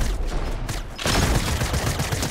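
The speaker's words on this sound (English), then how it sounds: "That person got freaking sniped." A sniper rifle cracks in Fortnite Chapter 3, a sudden loud, harsh blast about a second in that leaves a dense, noisy rush of game sound ringing on afterward.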